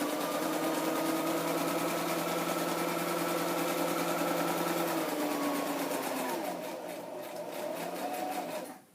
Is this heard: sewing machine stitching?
yes